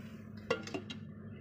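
A metal lid set down on a pot of fish curry, two quick clinks about a quarter second apart over a low steady hum, close and fairly quiet.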